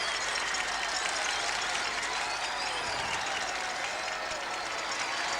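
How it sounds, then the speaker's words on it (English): Canadian fans at the 1989 World Women's Curling Championship in Thunder Bay applaud their team after a win, a steady dense wash of clapping from a large indoor crowd that holds at an even level throughout. "Canadian fans applauding their team from Thunder Bay"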